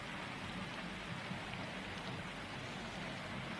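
Steady rain falling on surfaces outdoors, a soft, even hiss of many drops, faint and continuous with no voices.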